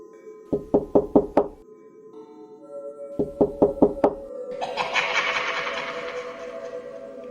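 Two sharp bursts of five quick knocks on a door, close and loud, the second set followed by a rising whooshing rush.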